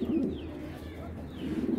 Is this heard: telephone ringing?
no